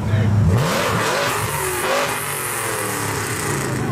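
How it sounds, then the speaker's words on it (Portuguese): Ford Mustang engine revving hard while drifting, a loud, raw roar that swells at the start and holds a rough, fluctuating drone, with voices talking over it. "Agora vamos ver o Mustang aqui fazendo um drift."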